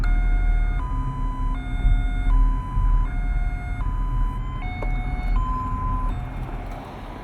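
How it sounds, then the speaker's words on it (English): A Santa Barbara police high-low evacuation siren alternates steadily between two tones, sounding loud and close with constant rumble underneath, with no voices. "That unique sounding siren you just heard is known as the high-low siren."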